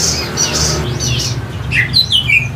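A songbird at a small bird kiosk chirps and squawks in quick bright bursts, several sharp calls up close over a low background murmur.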